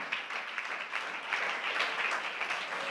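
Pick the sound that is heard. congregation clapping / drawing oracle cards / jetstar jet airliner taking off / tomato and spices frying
congregation clapping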